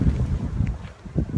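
Strong wind blows outdoors in uneven gusts and buffets the microphone with a low rumble, close and fairly loud, with no voices.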